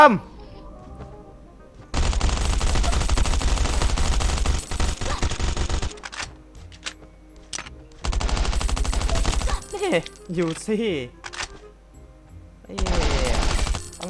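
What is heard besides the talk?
gunfire in the video game Last Island of Survival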